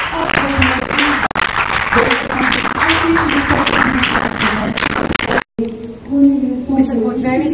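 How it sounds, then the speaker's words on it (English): Audience applause at a ribbon-cutting ceremony for the inauguration of a company headquarters in Mauritius, a steady round of clapping mixed with a voice talking over it, breaking briefly before speech continues alone. "a big round of applause"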